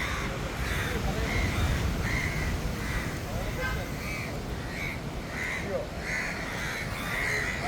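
Several crows caw in repeated harsh calls from nearby over a constant wash of outdoor background noise.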